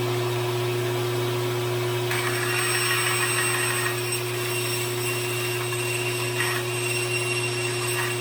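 Small power tool cutting a slot into the end of a wooden dowel, a steady buzzing whir with slight changes in pitch and load as the bit bites into the wood, running continuously at moderate loudness with no speech.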